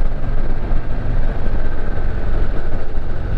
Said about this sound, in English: I love that rumble.